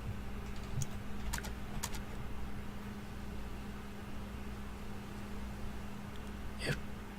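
Computer keyboard keys pressed in a few quick, sparse clicks and taps against a steady low hum, with no talk, during a stream playthrough of the game To the Moon.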